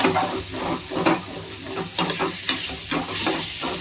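Mutton liver sizzles in hot oil as ginger garlic paste is added, with the steady hiss of frying broken by repeated stirring scrapes close up.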